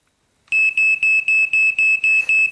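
Repeated high-pitched electronic beeps, about eight short pulses in a steady rhythm, loud and close, starting after a brief silence.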